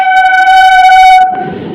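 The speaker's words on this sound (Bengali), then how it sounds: "চার নম্বর প্ল্যাটফর্মে ট্রেন আসবে আমরা দাঁড়িয়ে আছি" A train horn sounds at a railway platform as a train pulls in on platform four, a loud sustained multi-tone blast that cuts off into rumbling station noise and movement.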